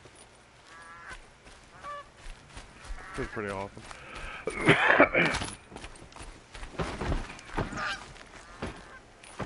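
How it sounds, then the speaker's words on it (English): Turkeys gobble in the Horizon Zero Dawn video game, a loud burst of warbling calls rising and falling among other animal noises while someone speaks over them. "Turkeys all over the place."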